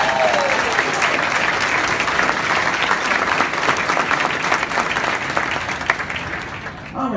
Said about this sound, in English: So one more big round of applause for our 93rd edition of the State Fair.